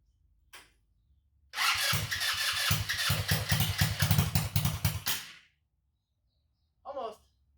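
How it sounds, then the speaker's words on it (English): A GY6 engine swapped into a Kandi go kart cranks over for about four seconds, a loud, rapid, pulsing starter-and-engine chatter close by, then stops; a brief voice follows. "We're going to try to start it now"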